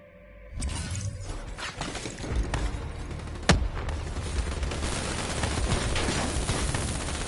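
Rapid bursts of automatic gunfire in Call of Duty: Black Ops 3, loud and continuous with sharp cracks and one heavy impact, sustained volleys filling the scene.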